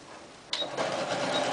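Sewing machine stitching the side seams of a garment at 5/8 inch seam allowance, starting with a sharp click and then running as a steady close whir for about a second.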